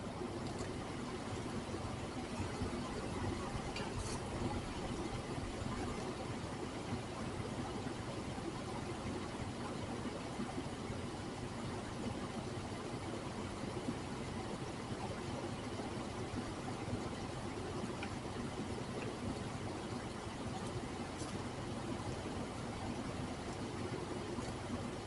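A Chevy S10 engine idles after an intake repair, a steady low mechanical hum that stays faint and even throughout with no talk.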